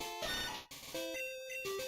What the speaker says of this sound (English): Sandshrew is supposed to sound like this.